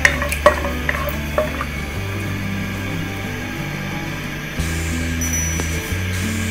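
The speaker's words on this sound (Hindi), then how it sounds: "सबसे पहले हम बादाम जो है वो फ्राई करेंगे।" Almonds fry in a pan for shahi mutton karahi with a soft, steady sizzle, broken by a few clinks of a spoon stirring, heard close and alone over a low hum.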